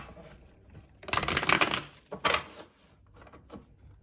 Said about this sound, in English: So let me just do one last shuffle.